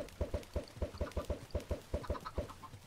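Blocky Minecraft chickens cluck in a steady run of about a dozen short, clear clucks, close and fairly loud, with no voices over them.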